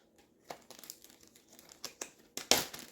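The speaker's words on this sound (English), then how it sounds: "Just gonna fold over the bags" Plastic bags being folded over while preparing no-bake dog treats from bananas, a series of soft crinkling rustles building to one louder crackle near the end, close and alone.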